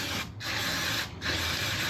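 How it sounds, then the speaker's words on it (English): Brake cleaner sprayed from an aerosol can during a Kove 450 Rally motorcycle service: a loud, steady, close hiss broken by two brief pauses between bursts. "spray down the area you've been working with some brake cleaner"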